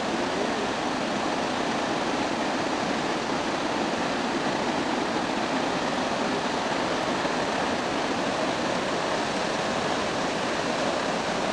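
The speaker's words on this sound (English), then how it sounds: "That's quite a large waterfall indeed." Akaka Falls in Hawaii roars as a large waterfall, a dense, steady wash of broadband rumble that holds unbroken and loud throughout with no voices.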